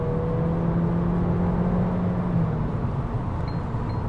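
Inside a VW Golf eHybrid, the petrol engine starts up under acceleration at around 65 km/h, giving a steady, loud low hum and drone with faint rising tonal whines over road noise, no talking.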